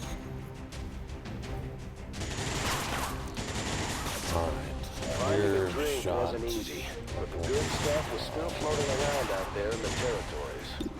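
Gunfire in the XCOM 2 video game, bursts of shots and explosive impacts over dense game music and effects, with someone talking over parts of it.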